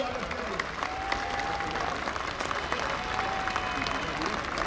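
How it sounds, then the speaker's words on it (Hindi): A large crowd at a political rally claps steadily and vigorously, filling the whole stretch with a dense, continuous wash of applause while a voice over a loudspeaker carries on above it. "जोरदार तालियां तब तक बजाते रहिए जब तक पटका न पहन ले"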